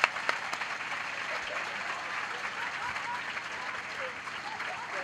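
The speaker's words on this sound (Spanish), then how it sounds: "Un aplauso para el tanga de Patricia." Studio audience applauds steadily on a Spanish comedy talk show, a sustained wash of clapping with faint voices mixed in, holding level for several seconds.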